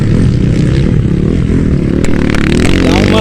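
Motocross race bikes revving hard and launching over jumps, a loud, close, continuous engine drone with rising and falling pitch and sharp bursts as throttles open.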